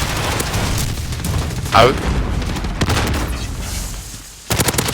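Gunfire from a competitive esports shooter match, with bursts of shots running under a fast, excited casting voice throughout and a sharp cluster of shots near the end.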